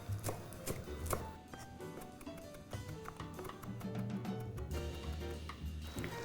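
A knife chops fresh parsley for garnish on a board while cavatelli with chickpeas and mussels cook; quick, irregular, fairly soft taps sound over quiet background music.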